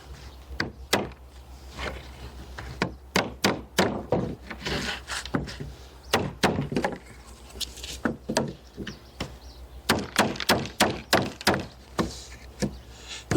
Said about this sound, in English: Hammer them through.